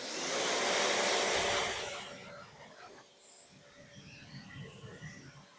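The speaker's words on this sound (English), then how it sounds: "All right, let's rinse this off." Water sprays onto a car wheel to rinse off iron remover cleaner, a broad hissing spray for about two seconds, then quieter splashing and dripping.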